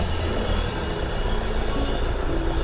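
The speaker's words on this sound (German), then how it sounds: "hier direkt am Campingplatz fährt der Glacier Express vorbei" The Glacier Express train rolls past a campsite in Switzerland, a loud, steady rumble and roar filling the whole stretch close by, with no voices.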